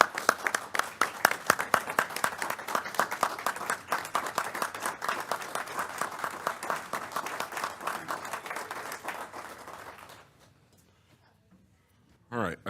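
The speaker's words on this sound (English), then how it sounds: "Let's give these ladies a round of applause." People at a school board of education meeting give a round of applause, dense close clapping for about ten seconds before it stops abruptly into near silence.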